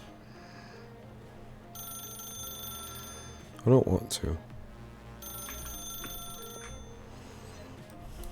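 An old-fashioned telephone rings in The Stanley Parable in two bursts of bright, trilling bells, with a short spoken line and a louder thump between them.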